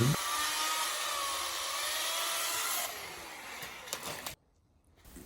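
An electric chainsaw cuts diagonally through a thick tree branch, a steady loud buzzing whine with a rough rasp that runs for about four seconds, then stops abruptly and leaves near silence.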